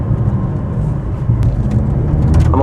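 A Ferrari 488 driving along a road lined with trees, its engine a steady low hum beneath the cabin, with a brief tick of road noise and a small rise near the end.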